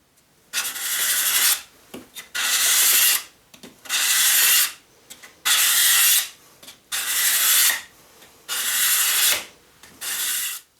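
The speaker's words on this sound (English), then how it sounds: "I'm going to take a coarse cabinet scraper and I'm going to work at this and get it down to its final thickness." A coarse cabinet scraper shaves mahogany ukulele wood toward final thickness in seven long, rasping strokes, each about a second long and separated by short pauses, loud and close, with no speech.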